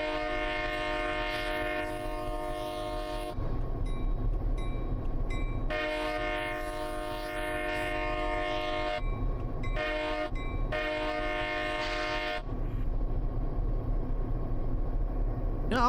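A locomotive horn blows long repeated blasts for a whistle post on the Arlington and Lewiston Railroad in Train Sim Classic. It sounds loud and close over a steady engine rumble and rail noise, with brief breaks between blasts.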